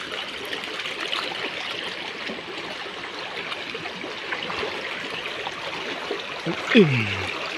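A shallow stream flows steadily with a constant broadband rush of water as someone wades across it, with a brief louder splash or voice near the end.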